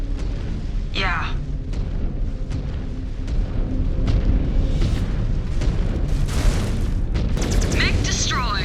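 An enemy mech is destroyed in the video game MW5: Clans, with deep booming explosions rolling under a continuous rumble of battle, moderately loud, while voices talk over the action.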